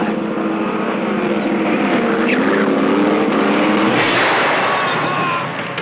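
Race car from the film Death Race 2000 revving through one last hard acceleration, a loud continuous engine roar with shifting pitch, fading slightly at the end.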